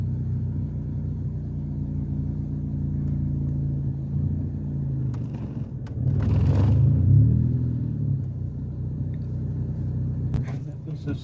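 A manual transmission car reverses with its clutch slipping, a steady low engine rumble that swells and strains for a few seconds midway before easing back, close and continuous.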